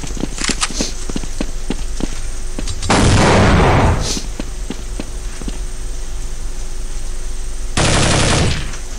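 Gunfire in Counter-Strike 1.6: a run of sharp, regular cracks and ticks over a steady hum, with two short loud bursts of noisy blast sound in between.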